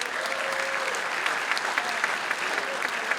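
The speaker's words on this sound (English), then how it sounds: "give a round of applause to all these parents." Audience applause for parents at a high school athletic signing event, a steady burst of many hands clapping fairly close, with a little crowd voice mixed in.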